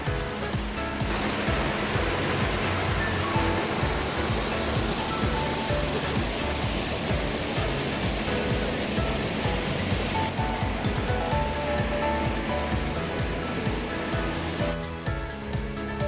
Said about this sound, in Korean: 시원스럽습니다. 폭포!